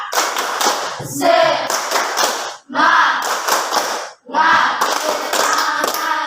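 A school class repeats a rhythmic spirit-clapping routine while standing, three loud bursts of patterned clapping mixed with shouting voices, with brief gaps between phrases, close and lively.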